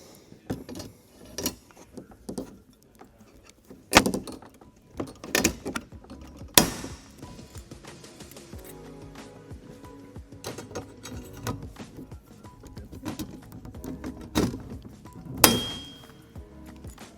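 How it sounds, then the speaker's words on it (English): Rivets being driven to fix a handle onto a screen door: sharp metallic clicks and clinks at an irregular pace over quieter mechanical rattling, close and fairly loud, with no one talking. "So now you just drive your rivets."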